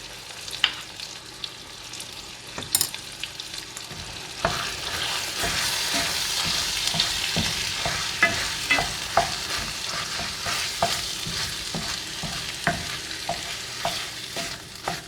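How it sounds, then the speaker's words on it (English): Chili with chocolate being stirred in a pot, a spoon scraping and clacking against the sides in irregular strokes over a steady soft sizzle, with no voices. "Just trying to bring all these flavors together, give it a nice stir."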